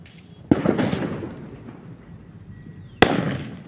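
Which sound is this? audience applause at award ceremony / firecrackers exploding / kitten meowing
firecrackers exploding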